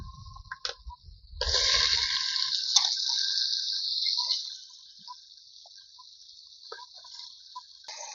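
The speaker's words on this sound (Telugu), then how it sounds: "చికెన్ వేసేసుకుందాం" Washed chicken, a kilo of it, goes into a hot frying pan for a Telugu chicken curry, setting off a loud sustained sizzle that slowly settles into a steady, quieter frying hiss, with a few small knocks early on and no talking.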